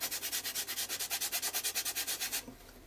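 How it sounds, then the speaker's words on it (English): A wet baby wipe is rubbed back and forth over paint on a mixed-media art journal page, making a steady rhythmic swishing scrub of about twenty quick strokes that stops abruptly near the end. "you can take a wet wipe, a baby wipe, and you can just rub"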